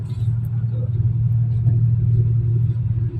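A car heard from inside while riding gives a steady, loud low engine and road rumble that holds evenly throughout.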